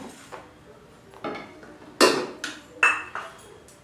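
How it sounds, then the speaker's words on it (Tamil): Chillies and curry leaves being stirred in a pan while roasting, a few sharp metallic scrapes and clinks of a spoon against the pan over a low background, close by. "மிளகாயும் கருவேப்பிலையும் வறுத்து எடுத்துக்குவோம்."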